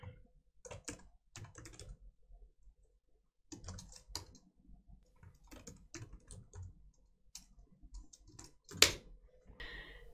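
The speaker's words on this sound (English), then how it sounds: "In this field, you can type in the values and then press enter." Keys clatter on a computer keyboard as values are entered into a form field, quiet close-up tapping in short irregular bursts with pauses, ending in a sharper keystroke.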